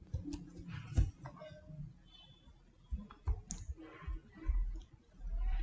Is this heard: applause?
no